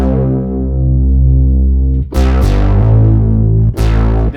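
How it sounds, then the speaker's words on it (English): A dark Sylenth1 synth bass preset called Darkness V3 plays thick, heavy sustained low notes, loud and up front, changing pitch twice with brief bright attacks on each change. "I used to have this really dark bass sound."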